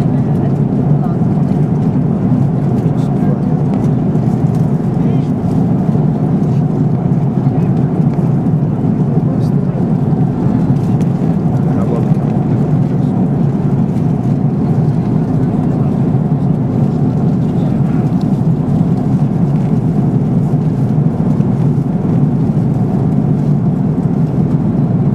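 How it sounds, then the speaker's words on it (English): A steady, loud, low engine drone fills an aeroplane cabin in flight, unbroken and even throughout with a constant airy hiss. "how about a little bit of footage from on the aeroplane?"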